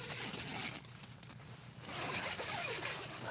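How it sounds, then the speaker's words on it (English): Zipper in an outdoor mountain video game scene, a rasping zip drawn out twice over steady ambient hiss, close and moderate in level, with no talking. "Zippers, okay."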